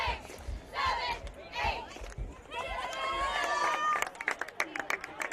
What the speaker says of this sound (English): The MMCRU crowd in front of us here in a frenzy after that scoring drive to tie it up